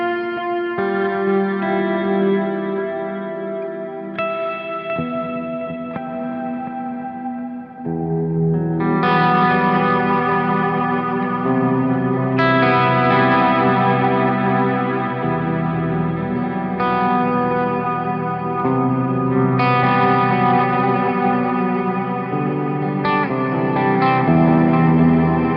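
Electric guitar run through three effects pedals, giving a thick, effected sound with distortion, chorus and echo that plays steadily and loudly through the whole passage, with no talking.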